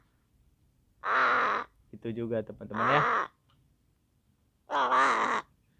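Crows caw in several loud, harsh bursts of repeated calls, close by, with brief spoken words between them.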